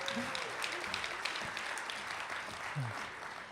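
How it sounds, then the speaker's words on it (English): Quiet applause from an audience at a storytelling event, a soft continuous patter of clapping heard at a distance with faint voices mixed in. "Another round of applause for Mr. Daniel Stewart."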